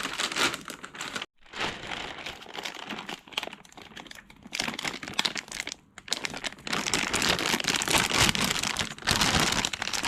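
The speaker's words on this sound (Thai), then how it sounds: "ให้เรา ปิด ซิปให้สนิทนะ" A clothes-packed suitcase zipped shut with no pull tab, its teeth pressed closed by hand: irregular bursts of close, rapid clicking and crinkling, with short pauses between.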